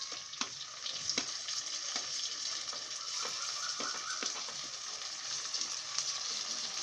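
Chopped tomatoes hit a hot pan of ginger-garlic paste for a Tamil chicken curry, setting off a steady, fairly close sizzle with scattered spoon taps and scrapes, no voices.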